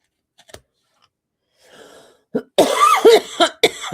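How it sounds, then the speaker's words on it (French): A quiet start with faint clicks, then a burst of several harsh, close coughs in quick succession. "je tousse pas mal avec le pollen"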